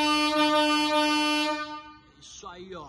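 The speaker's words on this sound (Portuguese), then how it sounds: "Buzina marítima já instalada aqui" A loud, sustained marine air horn fitted to a Hyundai i30 car blasts for about two seconds with a rich, brassy tone, then cuts off, followed by brief voices and noise.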